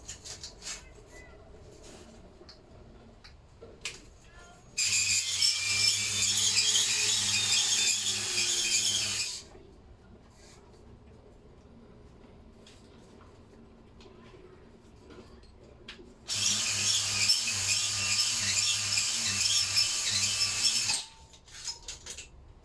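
A Ryobi cordless drill or impact gun whirs in two close, sustained bursts of several seconds each during assembly work on a Lister D engine, with quiet handling noises between them.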